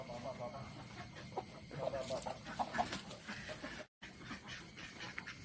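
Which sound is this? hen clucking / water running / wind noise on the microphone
hen clucking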